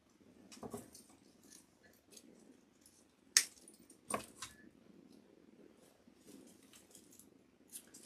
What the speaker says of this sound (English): Let me cut one off and see.